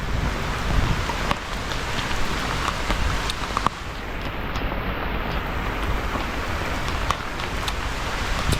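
Heavy hurricane rain in Jamaica pours steadily in a dense, constant hiss, with occasional sharper drop impacts and no voices.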